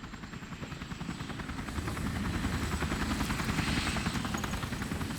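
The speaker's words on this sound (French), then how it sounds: "L'hélico est là." A helicopter arrives in the video game Resident Evil 4 Remake, its steady rotor chop and engine drone growing louder as it approaches.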